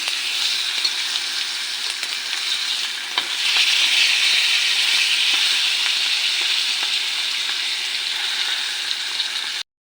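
Dried tilapia (daing) frying in a pan gives a steady, loud crackling sizzle that runs the whole way through with no voices, briefly swelling louder partway in.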